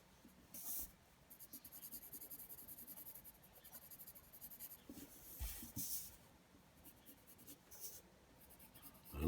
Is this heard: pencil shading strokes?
yes